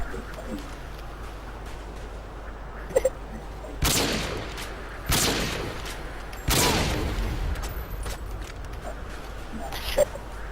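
Gunfire in the video game Call of Duty Modern Warfare 2, several separate loud sharp shots with decaying tails, spaced a second or more apart, over faint background noise.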